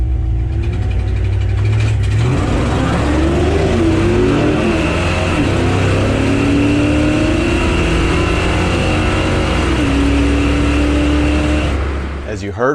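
A junkyard 318 engine drag car launches and pulls hard down the strip. A loud, sustained engine roar rises through shifts for over ten seconds and then cuts off abruptly at the end, with some talk faintly underneath.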